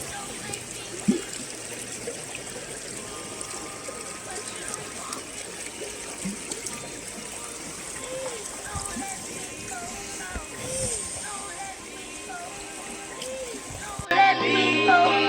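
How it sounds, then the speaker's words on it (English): Water trickles and burbles steadily at a lake along a hiking trail at Dovedale, with soft splashing and chattering in the background and louder handling noise at the very end. "Yo, water sounds so peaceful, man."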